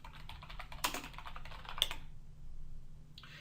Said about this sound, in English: Let me just type in internet marketing.